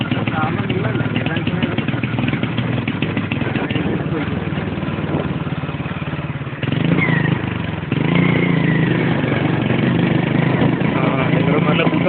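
A faulty motorcycle engine runs continuously under people talking, its note shifting and swelling partway through as the engine picks up again.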